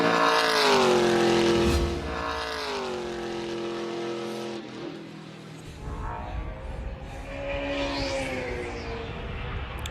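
Trans Am race cars run at Sebring, engines roaring and shifting through gears as they pass, loud at first then fading to a more distant drone.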